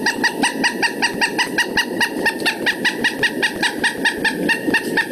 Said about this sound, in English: that's the pileated woodpecker